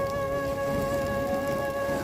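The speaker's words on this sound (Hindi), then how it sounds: "बारिश काफ़ी तेज़ हो गई है" Heavy rain pouring down, a dense continuous hiss and patter of drops on surfaces, loud and steady, with a faint tonal hum in the background.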